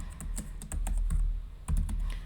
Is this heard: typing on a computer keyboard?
yes